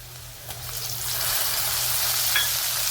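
Onions sauté in a pan for a dhemsa (round gourd) curry as tomatoes go in, a close, steady hissing sizzle that swells slightly louder partway through, with faint stirring sounds and no talk.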